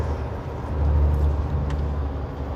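Steady roar of several cars driving westbound on the I-70 highway over Vail Pass, one towing a trailer, a continuous low rumble that swells slightly as vehicles pass nearby, with no voices.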